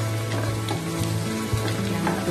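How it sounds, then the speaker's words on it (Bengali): Two spoonfuls of onion paste fry over medium heat in a pan for an egg korma gravy, giving a loud, continuous close sizzle with a faint steady hum underneath and no talking. "ভাজা ভাজা করে নেব।"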